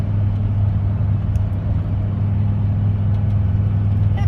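A vehicle engine drones steadily as it slowly climbs a hill at about 30 mph, giving a loud, continuous low rumble with no change in pitch or gear and no talking.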